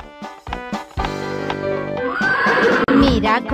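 A horse neighs in a children's rhyme, a loud close whinny that rises and wavers over a few seconds after some short clip-clop-like beats, with music behind.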